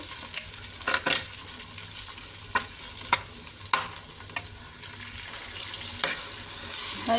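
Tomatoes sautéing in a clay pot, a low steady sizzle punctuated by regular scraping strokes of a spoon against the earthenware, close and without voices.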